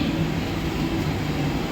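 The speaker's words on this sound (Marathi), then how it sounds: "प्लॅटफॉर्म क्रमांक 2 पर आई हुई लोकल" A Mumbai slow local train standing at platform 2, bound for Chhatrapati Shivaji Maharaj Terminus, gives off a steady, even rumble with constant broadband noise and no distinct events or voices.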